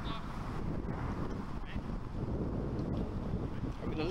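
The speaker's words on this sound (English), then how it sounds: "Lovely windy day, but it's lovely sunshine and breezy." Breezy, sunny outdoor wind rumbles steadily at a cricket match, a constant low buffeting roar across the whole stretch with faint voices underneath.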